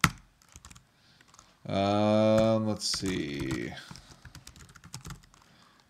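Rapid clicks of typing on a computer keyboard while entering a new entry in Google Contacts, light and close, running under and between a brief spoken remark and a sustained voiced tone.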